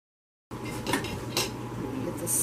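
A spoon stirs pickle relish in brine in a pot, making a few close metallic clinks and scrapes against the pot after a moment of silence.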